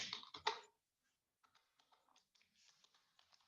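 Keys on a computer keyboard are struck while writing Python code, a burst of louder taps followed by a pause and then a scattering of soft, quick clicks, close and quiet.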